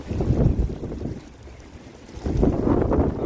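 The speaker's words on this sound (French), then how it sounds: "Oh, il y a du vent, je suis désolé." Heavy wind buffeting the microphone in low rumbling gusts outdoors in Rome, easing briefly midway then surging back strongly.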